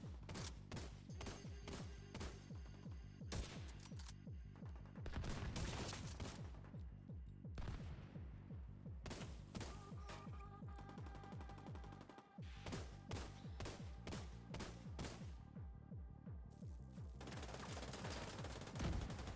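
Sniper rifle gunfire in The Division 2 rings out as loud, dense volleys of sharp shots in rapid succession, broken by a few short pauses, with no speech.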